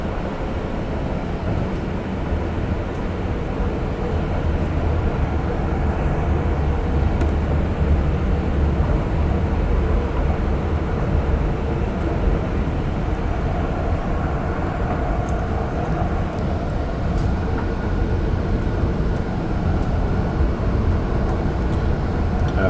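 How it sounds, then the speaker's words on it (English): A Deux-Montagnes REM test train runs toward Central Station, a continuous loud rumble of wheels and rail noise with a steady drone heard from inside the car, with no talking. "And this train is going to continue right through."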